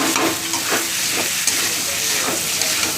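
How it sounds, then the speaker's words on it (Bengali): Boiled potatoes and tomato being stirred in a hot pan, a loud continuous sizzle with repeated scraping strokes of a spatula over the whole stretch. "এবার দেখো আলুগুলো নাড়াচাড়া করে নেব।"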